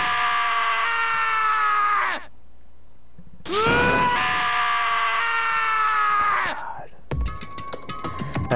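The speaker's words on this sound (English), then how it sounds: "As Taka's sad screams invade our skulls" A character named Taka in the Danganronpa video game lets out long, anguished screams during an execution scene, two sustained wailing cries separated by a brief pause, followed by a sharp electronic burst.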